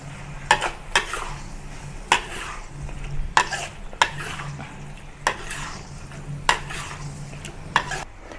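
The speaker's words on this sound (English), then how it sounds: "Now add the squid rings. Turn to high heat." Squid rings stir-fried over high heat for a Malaysian squid curry: a continuous sizzle broken by sharp, regular scrapes and clinks of a utensil against the pan, close and fairly loud, with no speech.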